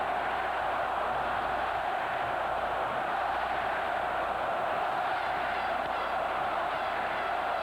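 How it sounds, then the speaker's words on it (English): Hockey arena crowd at a 1992 Canucks at Jets playoff game roars in a steady, distant wall of sound that holds evenly throughout with no single voices standing out. "Listen to this crowd."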